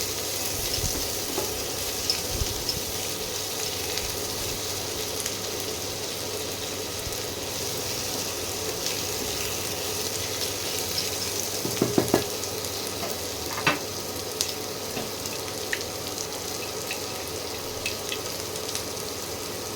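Chopped tomato frying with onion in a pan, a continuous close sizzle and crackle with occasional clinks and stirring scrapes, no talking.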